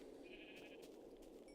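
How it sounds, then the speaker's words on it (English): A sheep bleats faintly in Minecraft (Tekkit Classic modpack), a single drawn-out call over a low steady game hum. "I need to kill 3 sheep"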